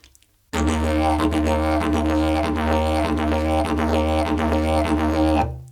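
A didgeridoo plays the Kaka Wah part of the Papa Wah rhythm, a deep, continuous drone shaped by a steady pulsing vocal rhythm. The playing starts suddenly after a brief quiet moment and carries on loud and close before stopping.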